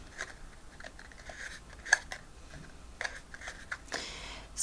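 Scissors cut along a score line in paper card, giving soft, close, irregular snips and crunches that are fairly quiet, with no talking.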